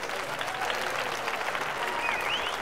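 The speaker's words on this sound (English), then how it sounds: "Round of applause for our guest, Xavier." Audience applauding a guest named Xavier, a steady wash of clapping at moderate distance with faint crowd murmur and brief whistles near the end.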